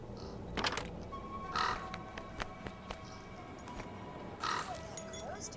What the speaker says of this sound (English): Wonder what that crow's doing in there.